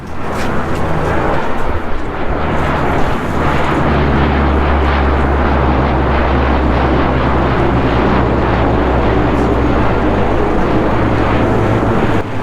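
An old Air Force Hercules plane flies overhead, making a loud, steady, low engine roar that fills the whole stretch without talking.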